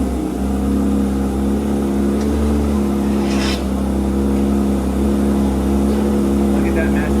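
A Porsche's engine runs loud and close, a steady deep rumble that holds for the whole stretch, with faint speech in the background.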